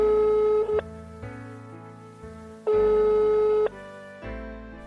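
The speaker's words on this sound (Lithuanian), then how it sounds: "Kai skambinate mobiliuoju telefonu ir laukiate, kol kitas atsilieps, girdite štai tokį kvietimo signalą." A mobile phone ringback tone heard while waiting for the call to be answered: two long, loud, steady electronic tone bursts separated by a pause, with quieter tonal sounds in between.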